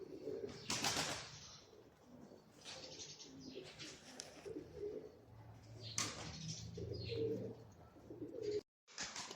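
Pigeons coo again and again in soft, rolling phrases, with several birds overlapping at close range and a brief flutter of wings; no one speaks.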